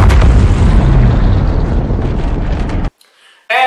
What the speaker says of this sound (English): setting the bomb off.